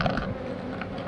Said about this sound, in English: They got a lot of bees still left inside of this box.